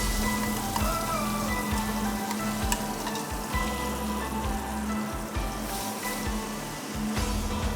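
Plant-based rendang with blended Indonesian spice paste sizzling and frying in a pan, a steady close crackle with occasional stirring scrapes throughout.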